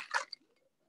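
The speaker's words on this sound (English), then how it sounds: "I like to use the fine mesh strainer anytime I'm pouring a drink like this" A mezcal cocktail poured through a fine mesh strainer after shaking with large ice cubes, giving a single brief, close liquid splash and squish that quickly trails off into quiet.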